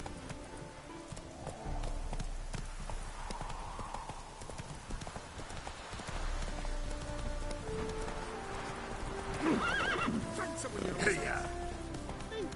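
Horse hooves clip-clop at a steady gallop in The Witcher 3, continuous and fairly close, with game music and ambience beneath and voices talking over it; no clear neigh stands out.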